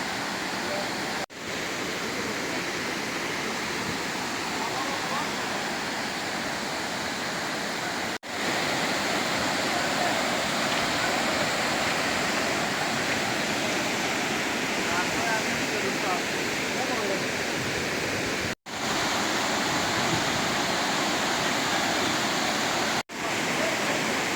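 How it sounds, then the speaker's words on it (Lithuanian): Small waterfalls near Podgorica, Montenegro pour in a constant, full hiss of flowing water, heard close and fairly loud throughout, broken only by a few abrupt cuts. "Ten šiek tiek paės matos ir yra ir mažesnių kriokliukų tekančių."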